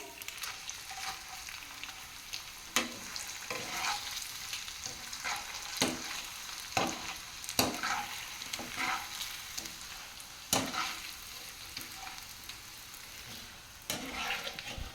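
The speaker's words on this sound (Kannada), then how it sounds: "ಒನ್ ನಿಮಿಷ ತನಕ ಫ್ರೈ ಮಾಡ್ರಿ ಗೈಸ್" Food frying in a pan gives a steady close sizzle and crackle, broken by sharp intermittent clacks and scrapes of a utensil stirring, with no voices.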